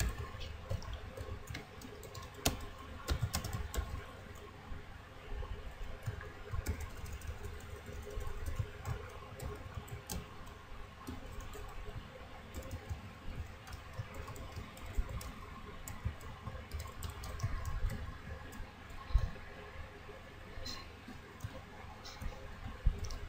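Code being typed on a computer keyboard, quiet continuous key clicks in an irregular rhythm with occasional sharper taps, faint and close, no speech.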